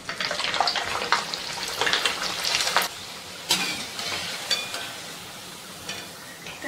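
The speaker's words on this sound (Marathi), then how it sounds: "अशाच प्रकारे मी आता दुसरी पण पुरी तळून घेत आहे।" Fenugreek and potato puri deep-frying in hot oil, with a steady bubbling sizzle punctuated by stirring and scraping clinks, bursts of louder frying noise alternating with quieter stretches.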